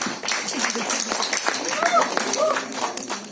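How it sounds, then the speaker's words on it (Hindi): An audience at a trailer launch press meet claps for Naveen Prakash, a continuous burst of close, crisp applause with scattered voices mixed in. "नवीन प्रकाश जी के लिए जोरदार तालियां हो जाएं।"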